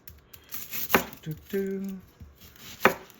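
A knife chops onions for tomato spaghetti sauce on a board, a few sharp, separate thuds close by with a brief faint clatter between them.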